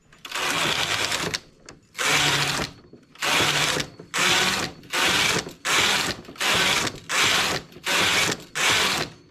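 A knitting machine carriage is pushed back and forth across rows, making repeated loud mechanical ratcheting sweeps of about a second each, separated by brief pauses.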